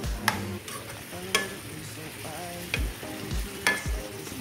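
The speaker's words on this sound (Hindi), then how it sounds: "ये हम लोग का फ्राई हो रहा है" Potato, capsicum and mushroom fry in a pan for a mushroom curry, with a steady sizzle and repeated scraping clinks of a spoon stirring the pan.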